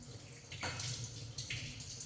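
A belan, the Indian wooden rolling pin used for paratha and chapati, rinsed under a steady running kitchen tap, with water hissing continuously and brief splashy surges as the pin passes through the stream.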